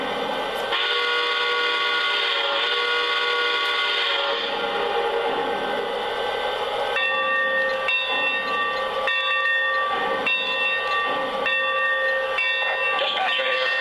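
A Lionel Legacy AT&SF Northern 3757 model steam locomotive runs steadily with a whooshing chuff, then gives a layered steam whistle. A repeating multi-tone horn pattern follows over a continuous rolling hum.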